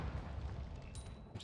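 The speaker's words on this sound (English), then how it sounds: "That was a new explosion graphic." An explosion goes off in the pixel-physics video game Noita. A faint, muffled low boom rumbles briefly, with a couple of softer bursts trailing after it.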